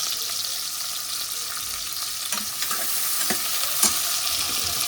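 Onion-based masala for coconut rice with mutton curry, stirred and frying in a pan: a steady close sizzle with the scrape and clack of a ladle running through it, no voices.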